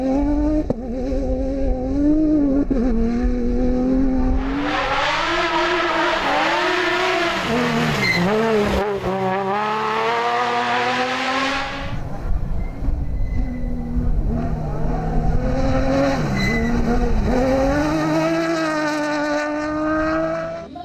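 A Fouquet Nissan race car in the final round of the French championship roars past at high revs, pitch sweeping up and down through gear changes, loud and close with no talk.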